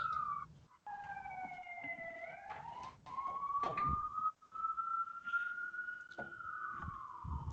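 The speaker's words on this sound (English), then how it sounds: "Is that a siren at your end or my end?" A wailing siren slowly rises and falls in pitch, moderately distant, with a few soft knocks and rustles nearby.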